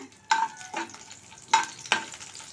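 Mustard seeds and garlic slices fry in hot oil, giving a steady sizzle with four sharp bursts of crackling and popping, fairly close and unaccompanied by any voices.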